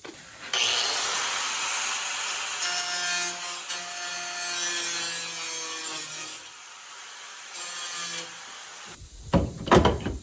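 A power tool whines as it grinds and cuts through a metal car body panel, steady for several seconds with a tonal hum, then stops and clatters briefly.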